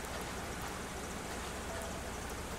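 Steady rain falling outdoors at an airport in the video game AirportSim, a constant, even wash of hiss with no distinct drops or breaks, fairly quiet.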